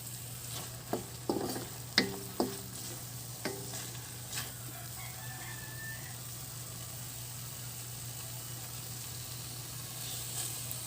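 A sardine omelette fries in a pan with a steady soft sizzle, broken early by several sharp utensil taps and scrapes, then settling into a continuous hiss over a low hum.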